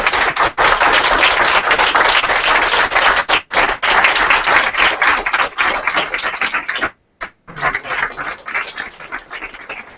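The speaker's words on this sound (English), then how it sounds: "absolutely need to give a very, very large round of applause to our 9 brave, intelligent student panelists" A conference audience at a student symposium applauds student panelists with dense, sustained clapping that fills the room, briefly dropping out near the end before picking up again.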